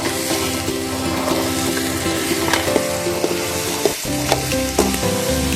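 Gooseberries (nellikai) fry and crackle in oil over a wood-fired stove, a steady sizzle broken by scraping stirs and clinks of the ladle against the pan, close and continuous.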